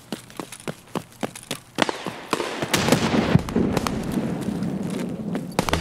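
Grenades burst in the Escape From Tarkov shooter, starting as a series of sharp, separate cracks and then building into a dense, loud rumble of overlapping blasts and crackling debris.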